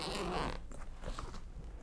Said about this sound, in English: Mine has a zipper.